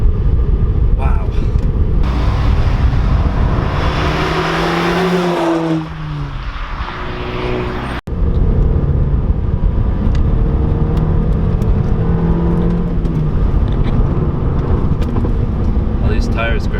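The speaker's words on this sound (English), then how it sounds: "you get on it and it is just roaring down the road" An APR-tuned Volkswagen GTI Mk6 accelerates hard down the road, its engine rising in pitch under someone talking, with a brief dip in the sound midway before it pulls again.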